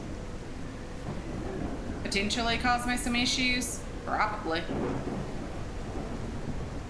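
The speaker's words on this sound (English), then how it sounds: "This rain is horrible, guys. It really is super, super noisy." Heavy rain with rolling thunder in a military-base survival video game, a steady noisy downpour running throughout while someone talks over it.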